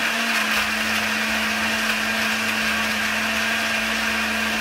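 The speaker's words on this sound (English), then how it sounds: "At first you may face some resistance while blending." Kitchen blender running steadily on tomatoes and peppers for a hot pepper sauce, a loud continuous motor whine with a high hum, close and unbroken.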